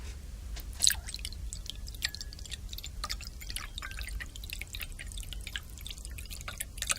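Liquid is poured into a glass during a pouring contest, heard as close, irregular drips, splashes and small clicks over a quiet background, with no talking.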